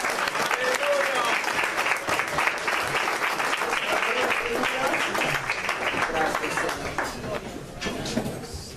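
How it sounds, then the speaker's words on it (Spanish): A church congregation gives a long round of applause during an evangelical service, many hands clapping with sharp individual claps in a crowded room, while voices call out over the clapping before it thins toward the end. "Si usted le da un aplauso al Señor"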